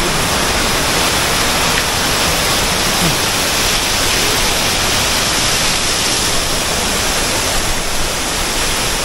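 Wah Kaba waterfall in Sohra, Meghalaya roars as a dense, unbroken rush of falling water, loud and near, filling the whole stretch without a break.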